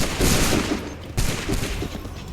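A massed musket volley in Assassin's Creed 3, heard as a dense, loud crackle of overlapping gunfire over a couple of seconds, with a sharp extra report partway through.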